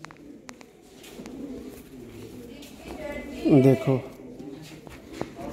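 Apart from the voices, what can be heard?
pigeons cooing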